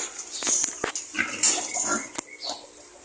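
Native crossbreed pigs grunt and snuffle nearby in a pen, giving short irregular grunts and squeaks among rustling and clattering.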